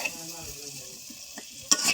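Potatoes fry in a pan of hot oil with a soft, steady sizzle, then a utensil scrapes and stirs near the end with a brief louder clatter; no one speaks.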